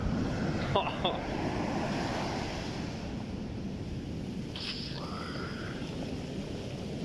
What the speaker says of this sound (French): Vous allez écouter le bruit des vagues.